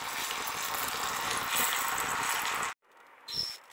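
Pieces of cassava fry in a pan with a loud, dense sizzle for most of the moment, then the frying noise cuts off abruptly, leaving brief quiet clatter.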